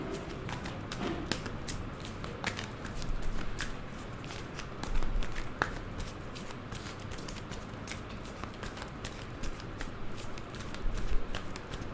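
Tarot cards are shuffled by hand in a long run of crisp, rapid riffling taps and slaps, close and clear, with no voice over them.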